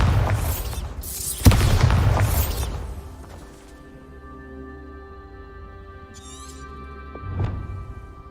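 A Bombarda explosion spell in Hogwarts Legacy goes off as a loud booming blast with a crashing burst, then decays into a low rumble and quiet hum, with a smaller thump near the end.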